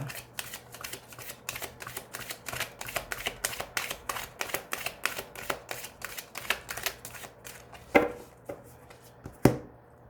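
A deck of tarot cards is cut and shuffled on a table during a reading, giving a quick run of crisp, close riffling snaps followed by a couple of sharper isolated slaps as the cut settles, with no talking.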